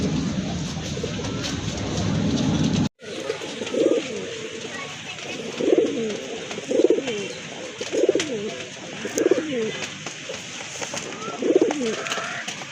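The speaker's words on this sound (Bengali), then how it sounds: "মাশাআল্লাহ আরেক জোড়া কবুতর, একদম ধবধবা সাদা কবুতর" Pure white pigeons cooing in a rhythmic series of soft, low coos spaced a second or so apart, close by, after a brief burst of handling noise at the start.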